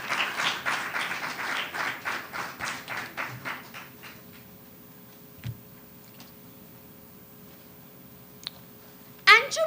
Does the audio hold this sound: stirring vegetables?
no